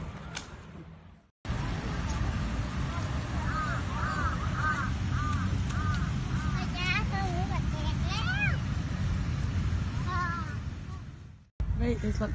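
Birds squabble noisily in Lumpini Park in Bangkok, a run of repeated crow-like caws and chattering calls over a dense background of park and city noise.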